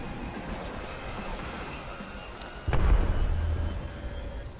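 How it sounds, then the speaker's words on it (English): Train in the Apex Legends game rolling and braking into a station, a steady low rumble that swells into a louder, heavier rush partway through, with a sharp clunk at the moment it picks up. "The train is stopping at this station."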